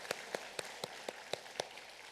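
A church congregation claps together in a steady rhythm, seven evenly spaced claps that sound faint and somewhat distant, with no talking over them.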